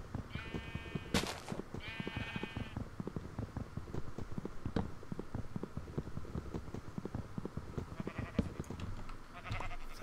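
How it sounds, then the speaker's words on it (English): Sheep in the video game Minecraft let out two wavering bleats early on, with a fainter bleat later, over a busy bed of game footsteps and clicks, with no talking. "Sheep! Oh my goodness, more sheep."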